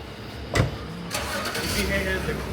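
A BMW E46 sedan's engine cranks and catches with a sharp burst, then settles into a steady mid-pitched running hum as the car pulls away, close by under a little background noise.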